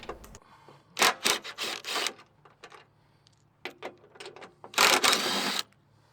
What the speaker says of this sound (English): I'm going to take these off with my impact for time's sake